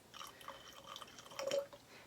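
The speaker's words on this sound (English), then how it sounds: "Let's see if I can pour without making a mess." Homemade yoga mat wash liquid is poured into a container, giving a soft, close trickle with small drips and a brief fuller splash of pouring near the middle, quiet throughout with no talking.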